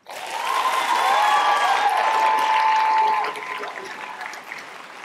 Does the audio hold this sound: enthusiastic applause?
yes